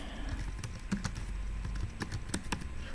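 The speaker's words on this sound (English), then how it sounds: "And I can type a question here" Keys clacking in irregular bursts on a computer keyboard while a question is typed, close and fairly quiet, with no talking.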